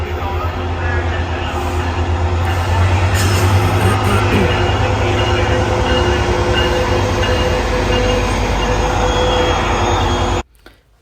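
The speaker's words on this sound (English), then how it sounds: "Right, got us another Metrolink train in the station here." A Metrolink train sits rumbling in Fullerton station, a loud, steady engine drone with a low hum and faint higher whine, continuing for about ten seconds before cutting off abruptly.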